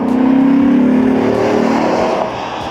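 A 1991 Chevrolet Corvette ZR1 with 375 horsepower drives past close by, a loud, deep engine note that holds steady and then eases off as the car moves away.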